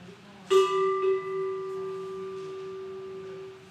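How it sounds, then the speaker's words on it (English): A new cowbell struck once to center a gathering, a single clear ring with a quick second tap, then a long pure tone fading slowly in a quiet room. "And we'll do the new bell today."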